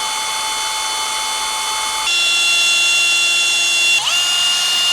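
A power drill whines steadily, boring pilot holes for a kickstand lift block on a Harley-Davidson FXR, its pitch shifting as it bites into material, close and loud with no talking.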